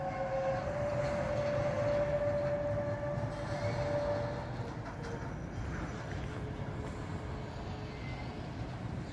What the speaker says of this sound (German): Und zwar ist es eine Baureihe 185 von DB Cargo mit ihrem Autozug komplett.